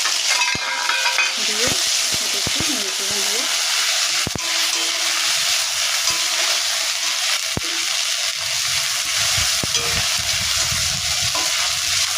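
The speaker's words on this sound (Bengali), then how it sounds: "এবারে এই আদা আর মৌরি বাটাটা দিয়ে দিলাম" Loud, continuous sizzling of a ginger and fennel paste frying in hot oil, with occasional clinks and scrapes of a utensil against the pan.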